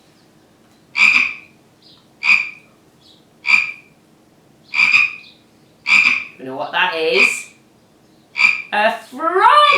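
A frog croaks in loud, regular pulses roughly every second, close by, with a short spoken question breaking in partway through and more croaks after it.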